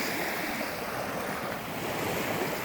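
Ocean waves wash steadily onto a beach, a continuous broad roar of surf with some wind noise, close and loud throughout with no voices.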